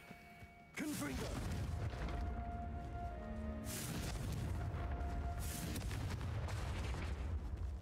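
A fiery explosion spell in the Hogwarts Legacy video game erupts in a sudden loud burst, followed by a long rumbling, crackling roar that swells again partway through, heavy and close.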